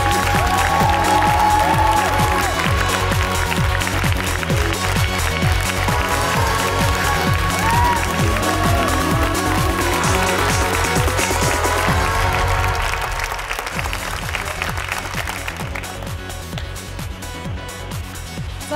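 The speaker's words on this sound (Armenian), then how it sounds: "Ծափարենք, շարունակեք ծափարենք։" Audience applause at an Armenian event, a steady dense clapping that holds loud for about twelve seconds and then thins out gradually, with music or voices faintly underneath.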